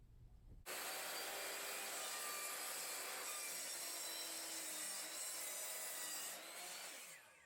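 A saw cuts a 22.5-degree angle into a piece of wood for a DIY wine gift, giving a steady, loud, close rasping whine that starts abruptly and runs for several seconds before trailing off.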